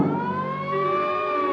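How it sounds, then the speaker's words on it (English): A wailing emergency siren from an ambulance or police car, its rising and falling tone sustained throughout at moderate loudness, sounding somewhat distant with no voices over it. "It's a siren. Probably an ambulance or a police car."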